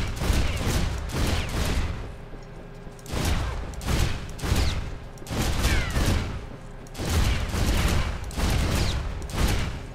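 Repeated heavy shotgun slug blasts in the video game Loadout, about six booming shots in a steady rhythm roughly every second and a half, loud and close with rumbling tails, no voices.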